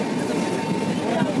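Crowded moving train interior in Bangladesh heading toward the Jamuna bridge at night, with a steady rumbling rattle running throughout the short span, loud and continuous with no distinct separate beats.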